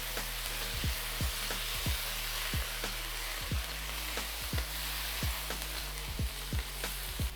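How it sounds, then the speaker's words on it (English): Stir-fried cauliflower in a hot wok sizzles steadily as Shaoxing wine is added down the side, with a continuous frying hiss and regular scraping clicks of a spatula stirring, alone without voices. "Add Shaoxing wine via the side of the wok."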